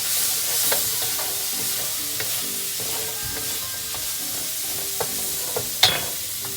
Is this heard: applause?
no